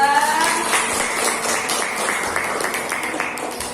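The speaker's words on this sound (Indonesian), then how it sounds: "Tepuk tangan untuk kelompok 4 dan kelompok 2." A classroom breaks into brief scattered applause for student groups, clapping rattling near and fairly loud as a teacher's voice speaks over it.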